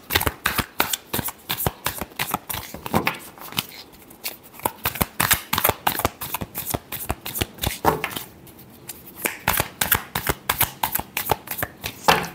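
Tarot cards being shuffled in a rapid, steady run of crisp riffling slaps and flutters that pauses briefly around the middle before picking up again, close and fairly loud with no talking.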